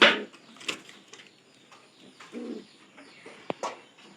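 Pigeons outdoors give a few short low coos among faint chirps and small rustles, with a sharper call near the end; no talking.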